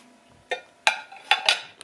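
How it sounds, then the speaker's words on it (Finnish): Dishes and cutlery clatter as clean kitchen dishes are put away, four separate sharp clinks and knocks spread over a quiet background with no talking. "mä rupeen tässä touhuumaan näitten astioiden kanssa"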